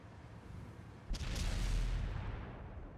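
A single heavy tank cannon shot in a competitive tank battle video game: one sharp, booming blast followed by a deep rumbling tail that slowly fades.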